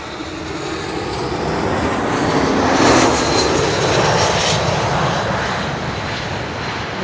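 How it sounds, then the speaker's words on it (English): An Airbus A321 jet arriving at Schiphol airport on runway Kaagbaan 06, a loud sustained engine roar that swells to a peak midway as it passes nearby, then holds steady. "But this is an A321"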